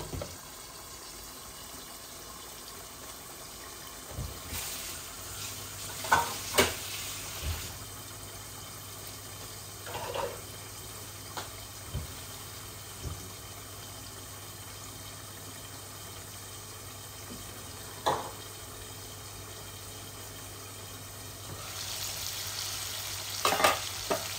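Chicken fries in a pan with cherry tomatoes, a low steady sizzle broken by occasional clinks and scrapes of stirring, with a faint hum underneath and no talking.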